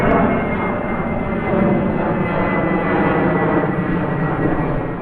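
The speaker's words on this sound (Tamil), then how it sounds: "டெல் அவீவ் நகரத்துல நம்ம விமானம் தரையிறங்கும் காட்சியை நீங்கள் தற்பொழுது" Airliner landing at Tel Aviv, heard from inside the cabin as a steady, loud engine roar with broad rushing noise throughout and no talk.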